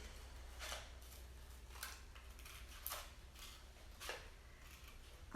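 Scissors snip through paper while cutting out a drawn paper circle for a handmade Valentine, giving four soft, quiet crisp cuts spaced about a second apart against a low room hum, with no talking.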